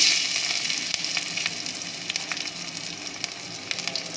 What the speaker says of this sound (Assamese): মই মাছ ভজা তেলখিনিতে কাটি থোৱা নহৰুখিনি দি দিম।